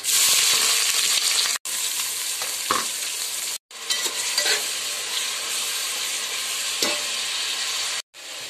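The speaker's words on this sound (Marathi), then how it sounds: "चला आता इकडे फोडणी देऊया चिकनला" Chicken tempering with cumin, bay leaf and onion in hot oil, a loud continuous sizzle with stirring scrapes, broken by a few brief silent gaps.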